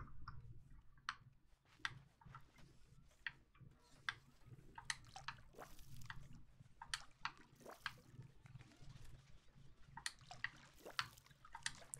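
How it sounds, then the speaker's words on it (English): Watering effect from the Disney Dreamlight Valley video game: faint, soft splashing water with repeated light drip-like ticks at a steady pace, quiet and alone. "Can I see the water sound effect?"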